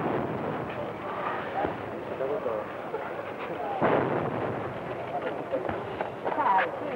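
Ceremonial 21-gun cannon salute for a visiting head of state, heard as a few sharp distant booms rising over a steady outdoor crowd murmur with voices talking throughout.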